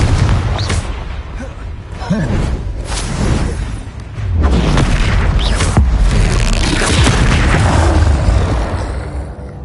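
Repeated Confringo spell blasts in a Harry Potter video game, booming fiery explosions bursting several times over about ten seconds, loud and close amid a busy battle soundscape.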